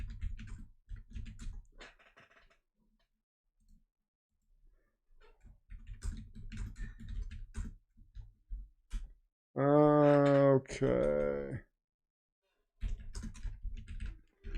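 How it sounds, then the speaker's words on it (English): Loud computer keyboard typing in bursts of clustered key clacks with pauses between, close to the microphone, joined by a brief voice and a loud strained vocal sound partway through. "Lord Keyboard is loud tonight"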